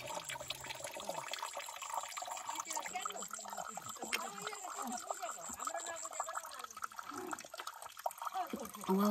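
Water trickles and splashes as it fills a small spring pool on a village hillside, a soft continuous gurgle beneath a person talking nearby.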